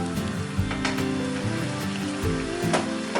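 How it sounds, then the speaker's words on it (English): Close, steady sizzling and crackling of mussels frying in a hot pan, with occasional pops and scrapes over a continuous hiss. "it will start sizzling, it will start frying off"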